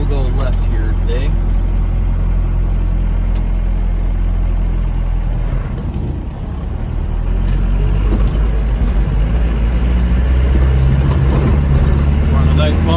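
A 1993 Land Rover Defender 90 with the 200tdi diesel engine driving, a loud steady cabin rumble of the engine and drivetrain with a brief dip in drone around a gear change, someone talking over it at times.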